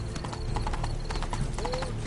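Hooves of Roach, the horse in The Witcher 3, clip-clop in a steady trotting rhythm, close and clear over a continuous game ambience, with a brief whinny-like tone near the end.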